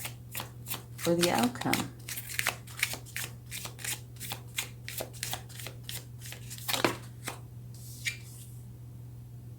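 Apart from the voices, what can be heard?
shuffling and drawing tarot cards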